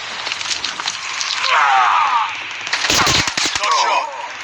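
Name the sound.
gunfire in a video game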